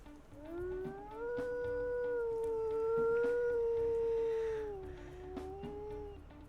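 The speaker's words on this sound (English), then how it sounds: "Oh, it's kind of a lonely howl." A single long, mournful wolf howl in the video game WolfQuest Anniversary Edition, rising then holding a steady tone before sliding down and fading, clear and alone over faint background.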